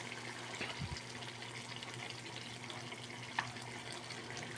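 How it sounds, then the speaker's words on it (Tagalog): Coconut milk is poured into a pan of frying chicken curry in a home kitchen, making a faint, steady liquid pour with soft sizzling underneath. One small clink is heard, and no one speaks. "Lagyan na natin ng gata."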